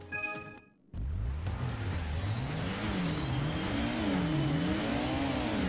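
Race car engines at the start of a race in the PS1 game Gran Turismo: a brief quiet lull, then a loud sustained engine roar that rises and falls as the revs surge, with tire noise.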